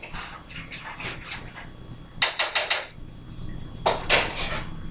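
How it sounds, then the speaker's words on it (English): Scrambled eggs being scraped around a pan with a utensil in a home kitchen, giving repeated short scraping and clinking strokes, with a quick burst of four sharp scrapes in the middle and another pair near the end. "So you gotta keep scraping it to make sure you get your scrambled eggs all"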